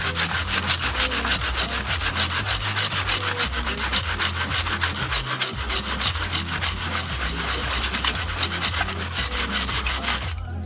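Aluminum foil dipped in vinegar being rubbed back and forth on chrome legs, a fast, steady scrubbing rasp, close and continuous with no talk.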